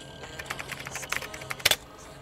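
Rapid, irregular keyboard typing, a flurry of light clicks with a sharper burst of keystrokes near the end, close and fairly quiet.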